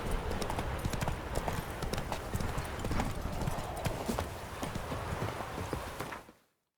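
In The Witcher 3: Wild Hunt, horse hooves clip-clop steadily nearby under a wash of ambient noise, with a brief whinny, before the sound cuts out abruptly at the end.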